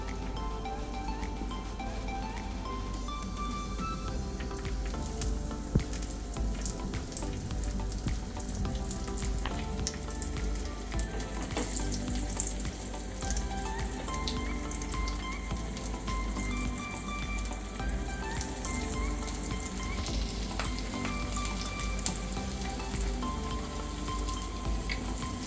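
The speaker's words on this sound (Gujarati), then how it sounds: "હવે આ પેટીસને આપણે શેલો ફ્રાય કરી લઈશું." Vegetable cutlet patties shallow frying in a pan of oil, a continuous dense crackle and sizzle like light rain, steady and close throughout with scattered sharper pops.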